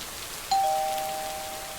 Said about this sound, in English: We can ring a doorbell.